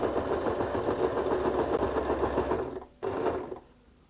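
A sewing machine runs a straight stitch along a zipper on a bag made from recycled jeans, a steady, close mechanical whir that pauses briefly, resumes, then winds down.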